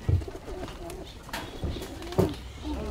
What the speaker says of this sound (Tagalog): Ang babait ng mga kalapati!